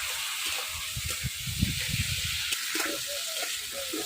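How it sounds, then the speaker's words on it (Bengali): Potato pieces sizzle softly in spiced oil for a Bengali Katla fish curry, a steady low hiss with faint stirring and scraping beneath, no speech. "এবার আলু দিয়ে দেবো। আলু দিয়ে একটু কষাবো।"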